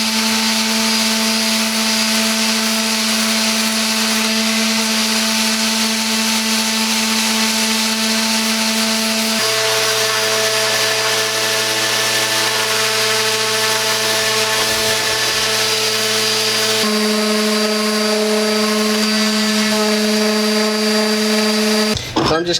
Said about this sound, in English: Belt sander or something?